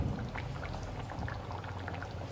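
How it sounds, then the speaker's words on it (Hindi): Gravy for a Goan-style brinjal dish coming to a boil in a pan, a steady close fizzing bubble and soft popping, quiet and continuous with no voices. "ये देखिए यहाँ पे हमारे ग्रेवी में आने लगा है उबाल"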